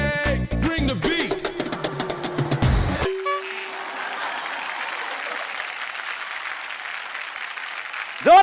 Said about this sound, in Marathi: जोरदार टाळ्या ताई